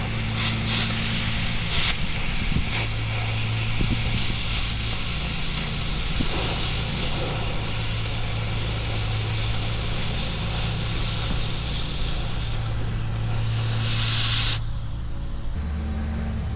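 A heavy steel beam being cut, a loud continuous hissing roar with a steady low hum beneath, running unbroken for many seconds before dropping away abruptly near the end.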